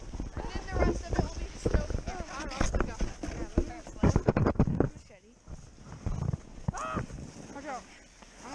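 A horse pulls a sled through snow, with rhythmic hoof clip-clops and crunching steps close by under frequent excited talk and shouting.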